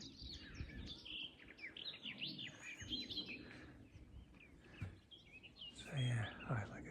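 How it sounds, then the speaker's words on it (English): Song thrush song with varied chirps and phrases over outdoor ambience in a wood nature reserve, fairly faint and distant, with some low rumble underneath. "these song thrushes, I can hear it"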